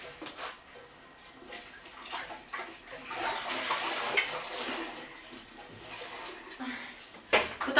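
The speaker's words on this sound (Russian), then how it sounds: "кран сломался. Вот эта штука, в общем, то ли забилась, то ли что. И, короче, сейчас вода во все щели прет." Water sprays and gushes from a broken kitchen tap, a hissing, splashing rush that swells and ebbs over several seconds, with clinks of dishes, at moderate closeness.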